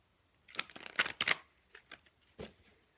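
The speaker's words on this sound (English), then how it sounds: "Do another shuffle." Tarot cards are shuffled by hand in a few quick, crisp riffling bursts, close and fairly quiet, followed by a single short flick, with no talking.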